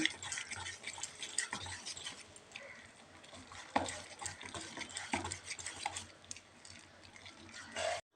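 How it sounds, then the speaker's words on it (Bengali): Semolina pakoda batter is mixed with salt in a bowl, making quiet wet squelching and stirring sounds in uneven strokes, faint and close, with no talking. "পরিমাণ মতন নুন। দিয়ে খুব ভালোভাবে মিশিয়ে নিতে হবে।"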